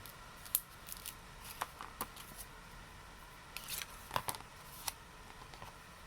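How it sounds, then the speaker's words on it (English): Scissors snip a small edge off paper during a card-making craft project, a few faint, quiet clicks and cuts spread over a soft background. "just going to snip that little edge off"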